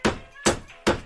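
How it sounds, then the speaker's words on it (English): Three hard knocks on a door in a building corridor, evenly spaced, loud, sharp and close, each with a brief hollow thud. "I'm going to walk right up to it and give it a real hard knock."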